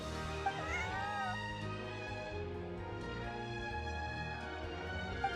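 A cat in the Genshin Impact video game gives a soft meow or two early on, mixed into a busy background of game music and ambience, with no talking.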